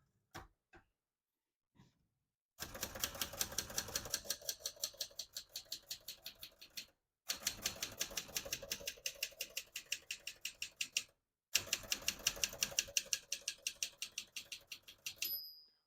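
Rapid mechanical keystrokes from a 1974 Adler Contessa portable typewriter clatter in three long bursts separated by short pauses, preceded by a few isolated clicks; loud and close, no voices.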